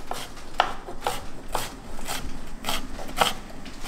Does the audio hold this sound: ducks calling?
no